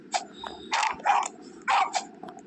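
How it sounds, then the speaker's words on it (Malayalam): A dog in the Roblox game Escape the Carnival growls and barks in several short bursts, close and fairly loud over a low rumbling background, with brief pauses between the yelps. "പട്ടിയുടെ സൗണ്ട് കേൾക്കുന്നുണ്ട്"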